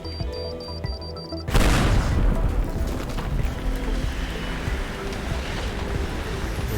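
Big explosions in the video game Teardown: after a quiet stretch, a sudden loud boom erupts, followed by a long rumbling, crackling tail of debris and collapsing structure, with a voice briefly heard.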